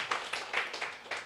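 A church congregation clapping in welcome, a few loose bursts of hand claps in a short uneven rhythm, fairly soft and somewhat distant.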